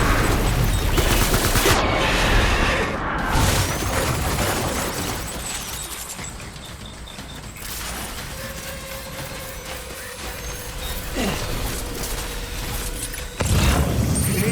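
Sustained gunfire and bursts of fire in the video game Death Stranding, loud and dense at first, then easing into a steadier battle din with mechanical clatter, with a sharp burst near the end.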